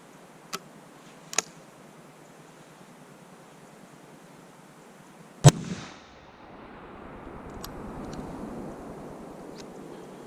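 A single-shot 12 gauge Charles Daly 101 shotgun with a 28-inch barrel fires one buckshot round, a sharp loud blast midway, preceded by two small clicks and followed by a faint rustling tail.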